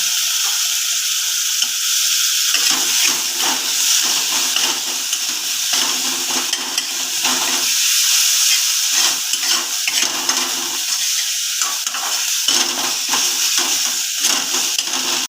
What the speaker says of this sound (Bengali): পেঁয়াজ টমেটোটা খুব সুন্দর কষানো হয়ে তেল ছেড়েছে